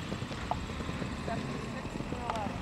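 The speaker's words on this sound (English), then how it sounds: "Merlot, the thoroughbred gelding, ridden by Jillian from Michigan" Hoofbeats of a thoroughbred gelding galloping on an eventing cross-country course, irregular muffled thuds under a commentator's voice and outdoor background noise.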